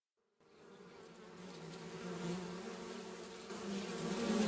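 Bees buzzing on a biodiverse farm, a continuous, swelling insect drone that grows gradually louder and closer, with no voices.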